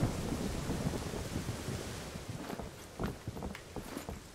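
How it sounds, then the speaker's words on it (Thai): Heavy rain pours in the Ring of Elysium video game, a dense continuous wash broken by several sharp rumbling thunder cracks in the second half. "โหฝนตกหนักมาก"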